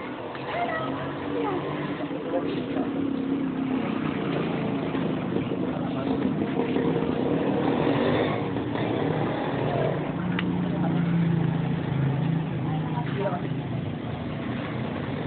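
A motorcycle engine running nearby, a continuous rumbling drone that swells slightly midway, with people talking over it.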